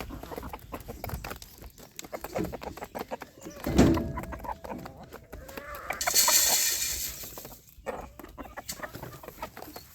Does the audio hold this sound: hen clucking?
yes